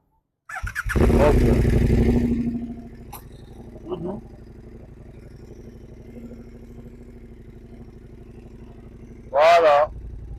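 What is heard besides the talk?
motorcycle engine starting and revving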